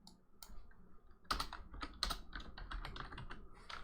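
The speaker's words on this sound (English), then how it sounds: "So let's type that in." Quick bursts of typing on a computer keyboard, close and fairly quiet, with irregular clusters of clicking keys and short pauses between them, no talk.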